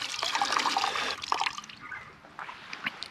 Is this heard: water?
yes